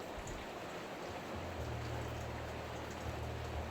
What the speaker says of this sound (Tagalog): lalong lumalakas yung ulan guys